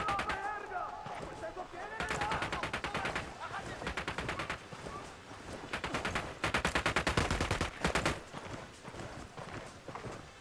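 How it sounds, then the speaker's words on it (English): Rapid automatic gunfire bursts in the video game Ghost Recon Wildlands, loud staccato volleys repeating over several seconds with brief pauses, mixed with player chatter over voice chat. "I'm opening fire on these shitheads."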